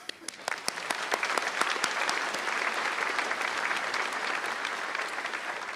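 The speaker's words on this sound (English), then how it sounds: "I want to begin by applauding the graduating class of 2019." A commencement audience at the UCLA Luskin School of Public Affairs in 2019 applauds the graduating class. A few scattered claps quickly swell into steady, dense clapping that stays even throughout.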